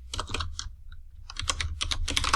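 Fast typing on a computer keyboard in bursts of clattering keystrokes, close and fairly loud, with a short quiet pause in the middle before the tapping picks up again.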